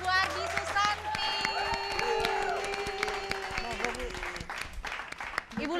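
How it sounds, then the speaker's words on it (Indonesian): An audience applauds after a poetry reading on a Ramadan TV show, with a dense patter of clapping mixed with tonal voices and music. "Boleh berikan tepuk tangannya untuk Ibu Ardi Susanti."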